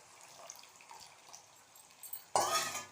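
Tamarind water is poured into a cooking mango-ginger pickle mixture, a quiet stretch of faint stirring followed by a sudden, loud, close splash of liquid near the end.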